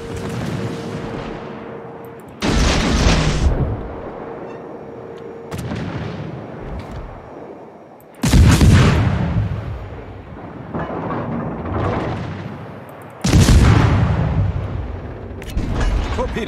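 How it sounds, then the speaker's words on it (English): Warship guns in World of Warships fire on a destroyer: loud, booming salvos come about every three to five seconds, each followed by a rumbling decay, with faint game noise between them. "Shooting at that destroyer there."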